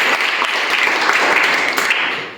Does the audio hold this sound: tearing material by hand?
no